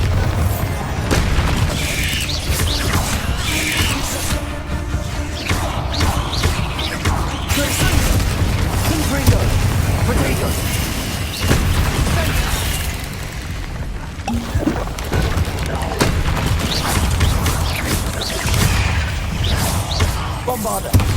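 Repeated Bombarda explosion spells cast in the video game Hogwarts Legacy, a series of deep booming blasts and crashing impacts with whooshes over a continuous game soundscape, spread across the stretch.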